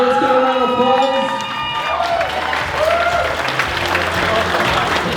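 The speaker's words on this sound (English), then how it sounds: "Let's give a round of applause." Wedding reception guests applaud after a toast, a dense wash of clapping and cheering that swells and carries on, with a voice briefly speaking over it at the start.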